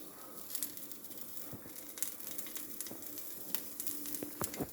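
A tempering fries in hot oil for a peanut chutney made with peanuts and green chillies. A steady close sizzle is scattered with small crackles and pops throughout.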